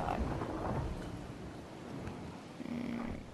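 Rumbling storm noise with low thunder-like roll and rain-like hiss in a video game scene with lava, a continuous broad wash with a faint tonal hum near the end, no speech.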